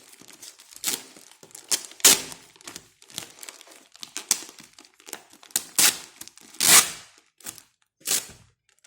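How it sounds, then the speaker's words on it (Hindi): Product package being torn open by hand, a series of sharp, close crinkling and ripping bursts of plastic wrapping at irregular intervals, loud and without talk. "और इसको इधर से फाड़ते हैं।"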